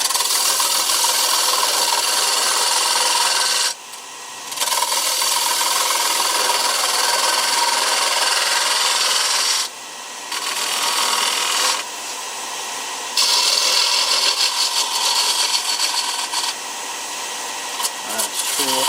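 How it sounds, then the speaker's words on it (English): A spindle gouge cutting a dry, rough-turned wooden bowl blank on a lathe, a loud continuous whirring scrape with a few short breaks where the tool lifts off. "I'll take my spindle gouge and bring that into and make a nice spigot."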